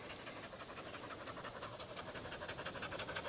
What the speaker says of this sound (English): There's the dumb silly dog.